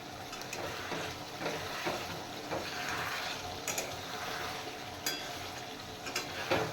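Rohu fish cooking in a pan with ripe chillies, a dense continuous sizzle and bubbling with occasional faint clinks of utensils against the pan.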